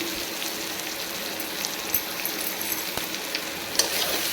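Onion and carrot frying in a pan give off a steady, dense sizzle that runs unbroken throughout, with a few small crackles and spits, close and fairly loud, and no voice.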